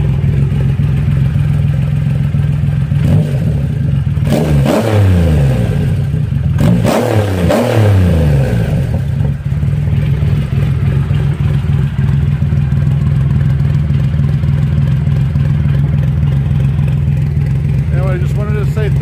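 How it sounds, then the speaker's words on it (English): A Triumph Roadster motorcycle engine with an aftermarket exhaust idles steadily, then gets two quick sharp revs that rise and fall before it settles back to a loud, close idle. "I'm gonna rev it up a little bit."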